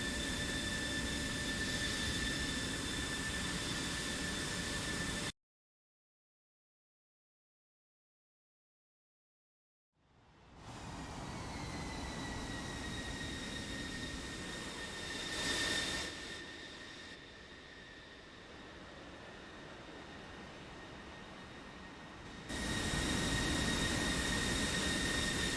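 Military jet aircraft taxi in formation toward the runway, their engines giving a steady whine and roar. The sound cuts out for several seconds, then returns with a rising turbine hum and louder rushing passes.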